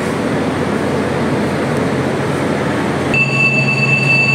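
A Whoosh high-speed train waits at the station before departing for Tegaluar station, giving a steady, fairly loud rumble of the train and its surroundings, joined near the end by a sustained tonal sound.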